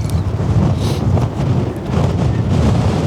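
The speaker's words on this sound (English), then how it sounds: "it's so windy that I'm actually scared" Strong gusts hammer the microphone on the rugged Cap de Creus coastline of the Mediterranean, a loud, continuous roaring buffet with low rumbling surges and no pauses.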